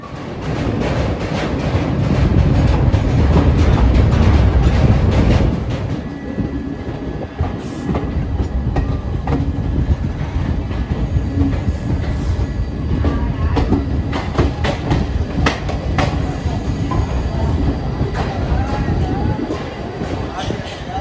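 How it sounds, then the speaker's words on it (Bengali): A passenger train pulls into Deen Dayal Upadhyaya station on the way to Varanasi, a loud, steady rumble of rolling cars with a heavier low roar at first. Faint clatter carries under it, and some voices are heard. "মোটামুটি রাইট টাইমেই দীনদয়াল উপাধ্যায় স্টেশনে ট্রেনটাকে ঢোকালো।"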